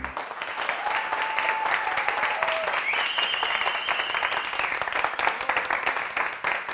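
Studio audience applause on a Turkish TV show, steady dense clapping throughout, with some voices and faint tonal music lines running over it.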